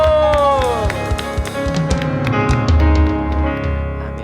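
A church congregation claps in praise at a Sunday worship service, the applause loud and steady under a voice and lingering music.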